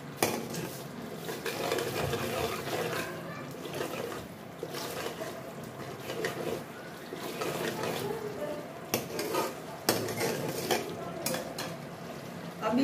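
Besan gatte gravy, oil separating as it cooks in a pot, is stirred repeatedly, with spoon scrapes, pot clinks and a soft sizzle continuing close by at moderate volume.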